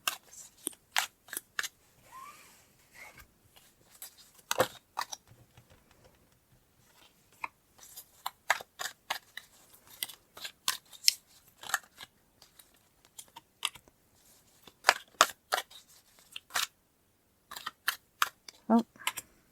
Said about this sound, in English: Okay, I'll pull more cards.